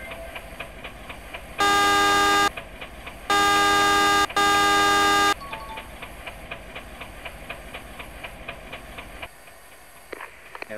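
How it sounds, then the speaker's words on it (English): A locomotive horn in Indonesian Train Simulator sounds three loud, sustained blasts: one short, then two longer ones separated by a brief gap. Steady rail rumble and hiss continue underneath, then fade to quiet near the end. "Blow horn and see if they budge."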